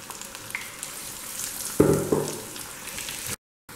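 Potato and onion pakoras fry in hot oil on a medium flame, a steady crackling sizzle with a louder burst as more batter is dropped in, then an abrupt stop.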